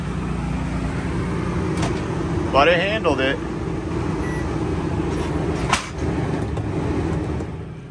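A Predator 3500 watt inverter generator runs with a steady low engine hum as it settles back from load, with a brief spoken remark and a couple of short clicks or knocks over it.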